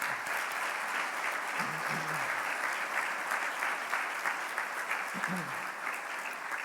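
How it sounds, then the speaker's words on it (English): Sustained audience applause at a women's scholarship and hall of fame induction ceremony, honoring sponsors and scholarship recipients; steady dense clapping throughout with a few faint voices underneath. "If we could have a round of applause for our sponsors and our scholarship recipients, I'd appreciate it."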